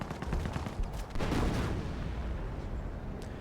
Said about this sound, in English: here comes 17 Pounder to soften up the Panthers